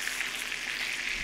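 Beef sirloin steak sizzles in a hot frying pan, a close, continuous hissing crackle of frying fat, steady and alone without talk.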